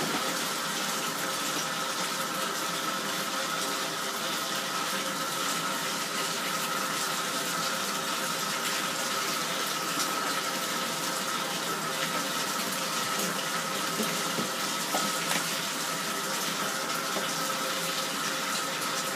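Water gushing steadily from a tap into a laundry tub of hand-wash water with laundry soap and dish soap, a constant close rush with no pauses or talk.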